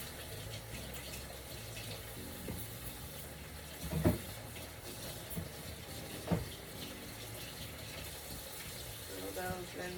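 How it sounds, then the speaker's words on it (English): Tap water runs into a sink as mini sweet peppers are rinsed, a faint steady trickle with a few soft knocks and splashes of handling, close up in a small RV kitchen. "I'm going to rinse them off and cut them up."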